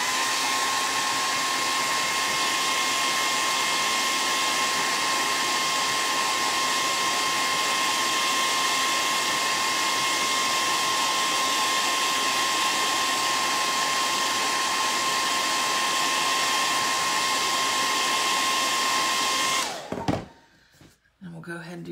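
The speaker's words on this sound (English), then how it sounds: "So I'm just going to hit this with the hair dryer." Hair dryer blowing steadily and loudly on a hand-painted shoe for about twenty seconds with a constant whine, then switching off abruptly near the end.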